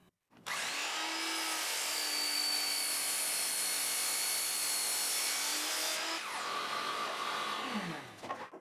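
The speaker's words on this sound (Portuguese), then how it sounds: "coloquei na estação de esquadria e cortei ao meio" A miter saw cuts a wide, twisted wooden board in half, spinning up to a loud, sustained whine that holds steady through the cut and then winds down as the blade slows.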